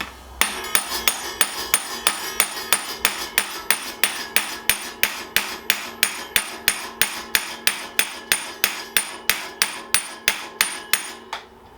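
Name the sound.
hammering a nut on a Giant Fathom E+ mountain bike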